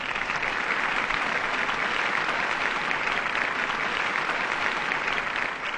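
Dense, steady audience clapping at a comedy scene in the Telugu film Astram, holding at an even loudness throughout with no pauses and no voices above it.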